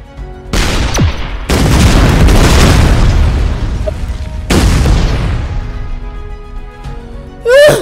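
Explosions from the artillery tank game Shellshock Live: a loud booming blast with crackling debris, a second heavy burst a few seconds later, then a short bright rising effect at the end, with no talking.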